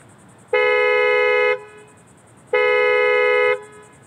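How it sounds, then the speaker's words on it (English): A 2019 Hyundai Santa Fe's horn, set off by the key fob's panic button, gives two loud, strong one-second honks separated by a one-second pause, close and clear. "Let's go ahead and push this panic button and see what the horn sounds like."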